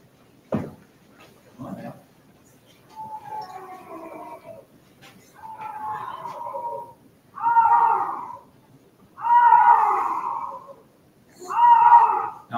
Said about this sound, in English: This is a bobcat.